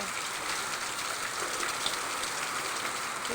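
Steady hiss of rain falling on surfaces, fairly soft and continuous, with a faint gusty whoosh of wind in the background.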